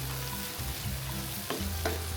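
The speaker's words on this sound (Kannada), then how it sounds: "ಮಿಕ್ಸ್ ಮಾಡ್ಕೊಂಡು 5 ನಿಮಿಷ ಅದು ಹುರಿಯೋಣ." Tomato masala with coriander powder and salt frying in a pan for dal fry, a steady close sizzle with a few brief stirring scrapes and no talk.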